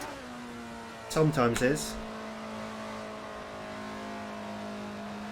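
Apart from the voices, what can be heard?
car engine accelerating in video game Assetto Corsa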